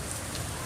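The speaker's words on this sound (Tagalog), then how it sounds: "Pinapasugod niyo ako sa ulan." Heavy rain falls outdoors, a dense, even hiss of drops pattering on surfaces, steady and enveloping for the whole short stretch with no other clear sounds.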